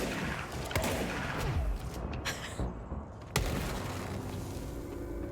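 Explosions and rapid gunfire from the video game Control, a dense continuous barrage with several sharp bursts standing out, the loudest near the end.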